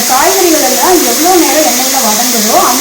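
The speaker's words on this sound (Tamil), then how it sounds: "எண்ணெயிலே காய் வந்து நல்லா ஒரு நாலு நிமிஷம் வதங்கட்டுங்க" Mixed vegetables sauté in hot oil for kadamba rice, a loud continuous sizzle filling the whole stretch while a person talks over it.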